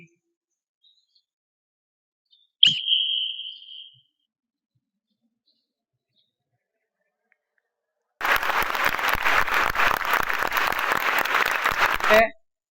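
A sharp whistle blast starts a children's running race at a school sports day, one short bright tone held about a second, followed after a pause by loud sustained applause and cheering.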